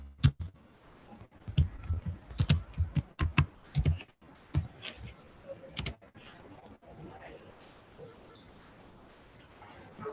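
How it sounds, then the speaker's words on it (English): Computer keyboard typing during an online forum, a run of sharp irregular key clicks in the first six seconds, then quieter scattered taps over a low background. "I actually started typing."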